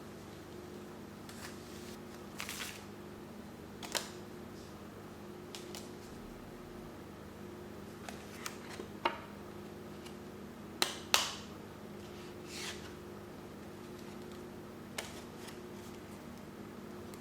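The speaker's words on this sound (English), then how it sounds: "It's kind of harder to faro shuffle them like this, but it works." A new deck of playing cards being faro shuffled, heard as a series of brief, close, crisp riffling clicks and snaps scattered irregularly over a steady low hum.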